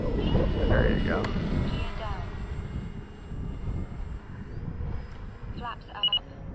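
An E-flite T-28 radio-controlled airplane comes in to land on a runway, its engine a steady mid-level drone that eases off after the first couple of seconds, with a voice talking over it throughout.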